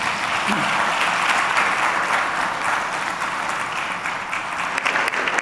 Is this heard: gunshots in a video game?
no